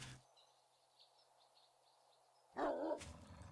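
A wolf in 7 Days to Die gives a sharp, barking growl near the end, loud and close, after a stretch of quiet ambience with faint bird-like calls.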